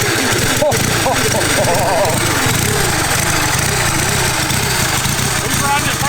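Twin-cylinder four-speed mini bike built from junkyard parts, its engine running after a kick start with a loud, continuous rough chugging drone up close, voices talking over it.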